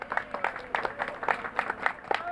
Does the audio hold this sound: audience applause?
yes